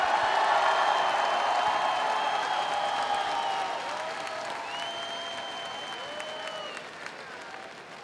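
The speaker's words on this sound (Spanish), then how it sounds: "Fuerte el aplauso para Alejandra Bogue, la más legendaria." A crowd at a drag show grand final applauds and cheers loudly, with clapping and a few whoops. It slowly tapers off while a faint tonal sound glides through the background.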